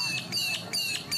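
Birds squawk at an outdoor cricket ground during a Darwin T20 league match, giving several sharp, high, repeated calls in quick succession, fairly close and clear.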